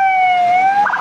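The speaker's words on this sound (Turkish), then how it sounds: "Şu ambulans geçsin hepimize." A loud ambulance siren in traffic holds a steady wailing tone close by, then shifts into a rapid warbling pattern near the end.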